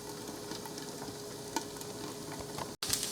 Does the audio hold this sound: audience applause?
no